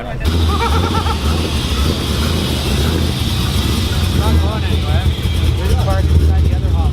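A loud Ford Mustang with a single-cam engine rumbles steadily and close by, a deep continuous drone with people talking over it.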